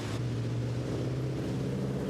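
Racing car with an 8.2 litre engine at the Chateau Impney hill climb, a loud, steady engine drone near at hand with a brief change in tone at the start, consistent with a gear shift.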